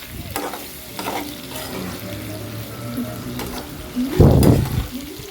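Potatoes fry in a pan while turmeric is stirred in: a steady close sizzle runs throughout with spoon scrapes, and a louder burst of stirring and frying swells near the end.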